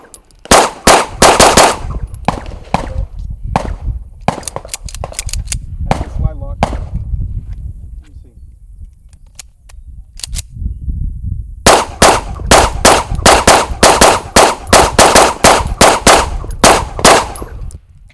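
Pistol shots at a shooting range ring out in two rapid strings of sharp, loud cracks, a brief lull between them, with a few scattered reports in the middle.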